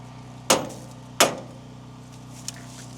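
Two sharp, loud hammer blows strike a metal part about a second apart, each ringing briefly, followed by a faint small clink.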